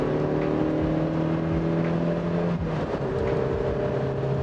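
Engine of a Mazda MX-5 NB roadster pulling under acceleration, a steady, fairly loud drone with a slight shift in pitch midway, heard continuously without talk.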